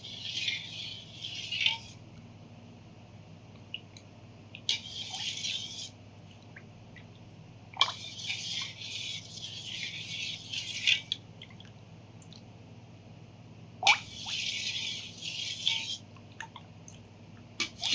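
A spoon stirs sugar into rose milk in short rattling bursts of a couple of seconds each, separated by quieter pauses, heard close up with no talking.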